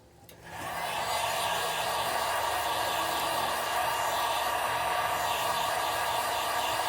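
A heat gun sets fresh paint on a custom crankbait, blowing a steady airy hiss that starts abruptly and holds even and close for several seconds, with no talk.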